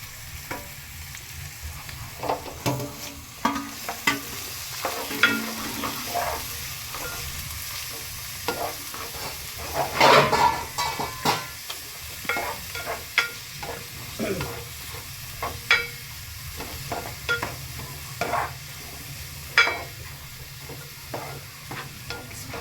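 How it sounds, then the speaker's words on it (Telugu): Onion pieces and chillies fry in a pan, a soft steady sizzle broken by repeated scraping strokes of a spoon stirring them, near and moderately loud throughout. "ఇప్పుడు రెడీలో పెట్టుకున్న ఆనియన్ పీసెస్ చిల్లీస్ వేసేసుకుందాం"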